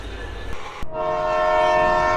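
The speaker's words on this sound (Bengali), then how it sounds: "যত সময়ে ছেড়ে দিল আমাদের ট্রেনটি" Train departing from Dhaka toward Cox's Bazar, a couple of sharp knocks followed by a long sustained horn blast that rises and holds loudly over rumbling noise.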